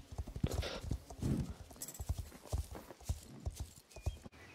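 Horse hoofbeats while riding in Star Stable, a rhythmic clip-clop of hooves with an occasional whinny, fairly faint and close, with brief bits of voice in the background.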